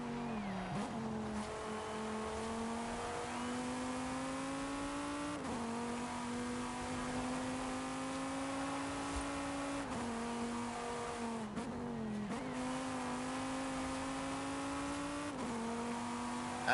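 A racing car engine in a video game revs steadily and loudly through repeated gear shifts, its tone climbing, then dropping sharply every few seconds with each upshift, with no one speaking.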